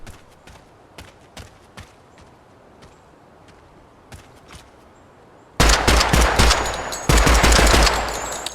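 In Project Silverfish, a 5.56 or 30-06 gun is fired as scattered single shots, faint and distant at first, then a sudden loud, dense burst of rapid automatic fire close by that runs for about three seconds.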